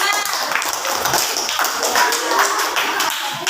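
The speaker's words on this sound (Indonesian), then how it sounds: "Yang beri tepuk tangan untuk kelompok 5." Pupils in a classroom applaud a presenting group, a short burst of brisk, fairly loud clapping from many hands that lasts a few seconds, with a voice speaking over it.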